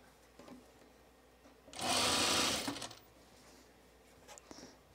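A sewing machine stitches the center front seam of a blouse in a single loud burst of about a second, with quiet room sound before and after.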